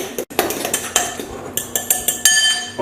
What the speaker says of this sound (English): Then you're going to take a fork and you're going to mash this down.